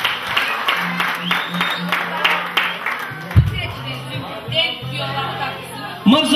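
Applause and clapping from wedding guests, fairly steady at moderate loudness, mixed with crowd chatter and a voice speaking over it, with a louder burst near the end.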